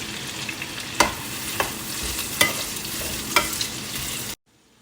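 Carrots and bell peppers stirred in a hot pan, a steady sizzle punctuated by four sharp spatula scrapes at roughly regular intervals, close up, ending abruptly in silence.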